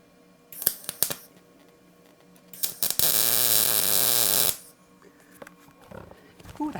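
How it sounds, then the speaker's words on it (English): A forge burner pipe is tack welded, with a loud, close sputtering crackle of the weld lasting about a second and a half, framed by a few sharp clicks and handling noises. "we're just going to tack weld this"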